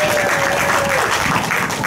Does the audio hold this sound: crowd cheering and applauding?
yes